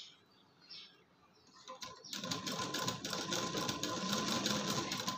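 A sewing machine stitches piping onto a blouse. After a quiet start it whirs into a fast, loud, steady run of rapid stitches that continues to the end.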